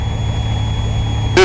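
Piper Dakota light aircraft engine at reduced power in level flight, a steady low drone with a constant hum, heard alone until a short burst of noise at the very end.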